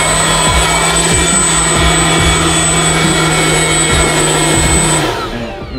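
Homemade vacuum cleaner built from drone parts, its drone motor running at high power: a loud, steady high-pitched whine with a droning hum underneath, continuous and close, cutting off at the end.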